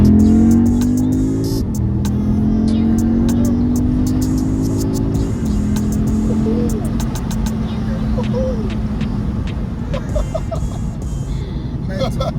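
A car accelerates along a straight road, its engine rising in pitch through several gear-like steps before settling into a steady hum, loud and close, with people talking over it.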